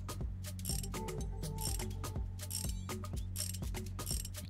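A wrench ratchets wheel nuts tight on a van in a video game, quick repeated clicking bursts over a low mechanical hum, close and steady, with no talking.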